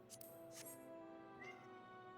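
A cat meows twice in quick succession, fairly close, then a fainter third call follows over a quiet hum.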